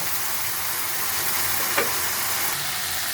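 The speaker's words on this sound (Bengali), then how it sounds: "মশলাটা একটু ভালো করে আমি কষিয়ে নেব" Masala spice paste frying in oil in a pan, a steady close sizzle and hiss throughout with one brief louder crackle near the middle, no talking.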